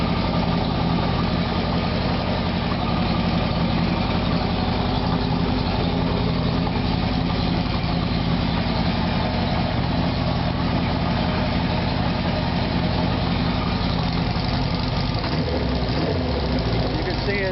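A 1977 Kawasaki KZ1000 A1 motorcycle engine idles steadily and close by for the whole stretch, a continuous low mechanical rumble with even rhythm and no revving, with a brief change near the end.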